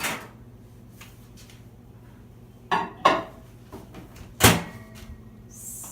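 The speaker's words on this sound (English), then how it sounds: "this is going to go into the microwave uncovered for 10 minutes" A cake dish is set into a microwave in a home kitchen, giving a few short clunks and knocks of the door and dish, with one louder bang near the end, in a quiet room.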